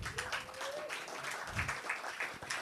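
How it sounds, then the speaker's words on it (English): Audience applause for volunteer of the month Tim Ford at a summer storyteller gathering, a moderate, fairly distant wash of clapping that continues steadily throughout. "Round of applause for Tim Ford."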